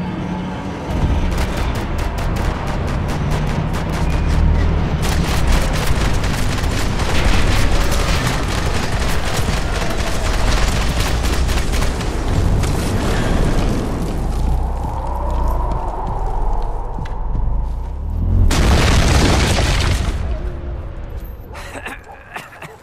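Dense barrage of gunfire and booming blasts in the PS3 game Max Payne 3, loud and nearly continuous for most of the stretch, with a sharp burst near the end and brief shouting in the background.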